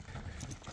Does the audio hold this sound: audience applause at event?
no